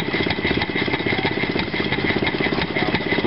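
An antique stationary engine at a Bowers, Pennsylvania antique show runs steadily with a bolted-on carburetor, its rapid, even firing pulses loud and close throughout with no talk over it.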